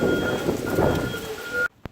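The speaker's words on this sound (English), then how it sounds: "if you listen real carefully, you're gonna hear it's raining." Rain falling outside a house with a roof in need of repair, a steady hissing patter with a faint tonal whine over it, cutting off abruptly near the end.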